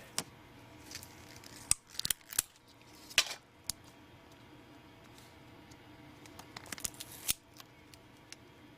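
Plastic tape crinkles and rustles in scattered, sharp bursts while servo motors are lined up on their nuts and wrapped, close and fairly quiet, with no talking.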